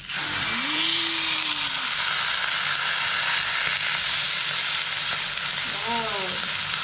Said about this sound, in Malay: Sekarang kita nak masak steak. Panaskan kuali. Kita masukkan steak yang kita dah.